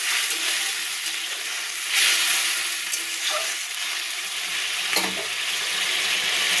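Water poured into a hot pan of frying potatoes and tomatoes sets off a loud, steady sizzle and hiss, with a few brief surges and clinks of stirring.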